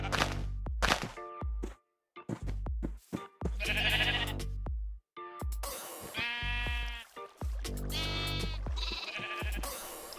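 Minecraft sheep bleat repeatedly on a game farm, several close, loud wavering bleats in sequence with short gaps and occasional thunks between them, no talking.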